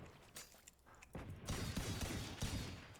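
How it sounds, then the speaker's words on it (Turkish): Rapid gunfire in Valorant as a weapon is emptied of its magazine, a dense burst of loud shots running steadily after a brief quieter start. "Ben şuna bir mermisini bitireyim."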